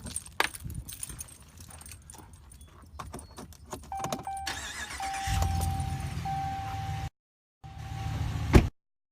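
Keys jangle briefly before a pickup truck with dual exhaust starts up, its engine catching and settling into a loud, steady idle with a short break, no talking.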